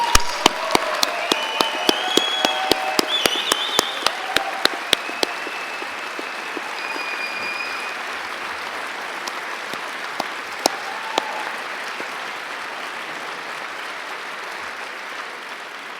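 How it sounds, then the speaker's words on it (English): An audience at a university graduation ceremony applauds in a large hall, beginning with a few distinct claps and swelling into a dense, steady wash of applause that lasts the whole clip. "perhaps graduates and others will applaud those behind the screen, those who've brought you here"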